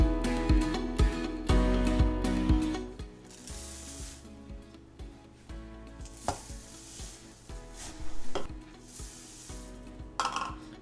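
Rice Krispies stirred into a sweet dessert mixture, with crackly scraping strokes and clanks of the spoon against the bowl, close and uneven, broken by short pauses.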